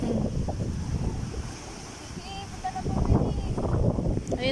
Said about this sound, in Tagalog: Sobrang lakas nga dito ng dagat, ilang araw na.